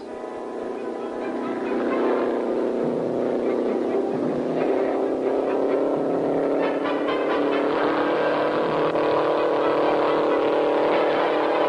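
A 1958 Argentine Grand Prix race car at about 138 mph holds a loud, steady engine drone that rises and stays sustained throughout, heard from on board or very close.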